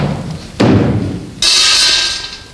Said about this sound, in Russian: Удар фасоли на дно жестяного ведра символизирует не столько выстрел,